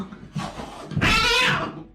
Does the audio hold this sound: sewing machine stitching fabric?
no